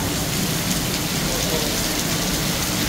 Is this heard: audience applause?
no